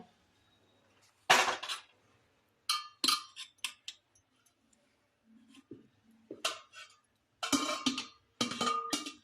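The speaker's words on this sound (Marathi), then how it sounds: "डाळ शिजले ते भांड काढून घेऊया" Cooked dal pot lifted out of a pressure cooker after its lid comes off, giving sparse metallic clanks and scrapes of steel vessels in a quiet kitchen, with a few short bursts close by.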